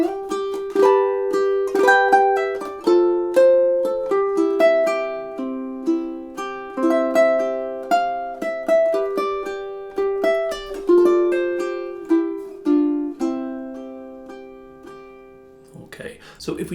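A ukulele strums and picks the chorus of a song, playing four measures of bright plucked chords and melody notes in a steady rhythm, close and clear.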